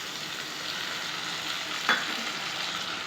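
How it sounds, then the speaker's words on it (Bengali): Onions with ginger garlic paste fry in a pan with a constant bright sizzle, and a single stir or scrape cuts through near the middle, close and fairly quiet. "আপনি যে পেঁয়াজগুলোকে কেটে রেখেছিলাম সেইগুলোকে ভেজে নেবেন।"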